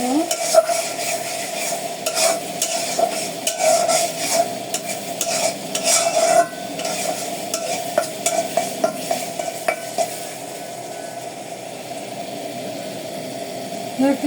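Onions with ginger and cumin powder are stirred in a frying pan for chicken fried rice, with repeated scraping strokes and clinks over a steady sizzle and hum. The stirring fades out near the end.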